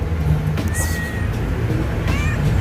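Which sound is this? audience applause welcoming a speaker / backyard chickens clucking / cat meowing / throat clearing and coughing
cat meowing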